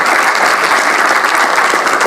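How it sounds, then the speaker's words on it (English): Loud, dense applause from an audience cheering two student groups after team project presentations, a steady wash of many hands clapping close by for a couple of seconds with no voices over it. "let's give both groups one round of applause again"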